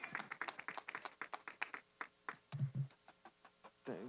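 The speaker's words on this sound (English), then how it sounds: "Round of applause to the two champs" Scattered, thin applause for two boxing champions in the ring after their wins: a small number of sharp, uneven hand claps that thin out toward the end, with a brief low voice mixed in.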